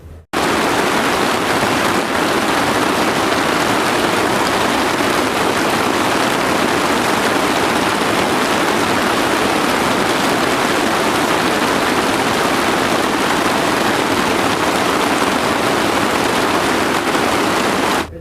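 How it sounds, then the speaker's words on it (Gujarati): Rain falls steadily over a village in Botad during a wet spell, a loud, unbroken hiss of drizzle and drops that holds the same level throughout. "અત્યારે વરસાદી વાતાવરણ જોરદાર થઈ ગયું ને ઝરમર ઝરમર ચાલુ છે"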